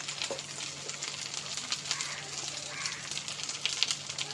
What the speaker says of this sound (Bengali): এই ফোড়নের মধ্যে এবার আদা বাটাটা দিচ্ছি, দিয়ে একটু নেড়ে নেবো ভালো করে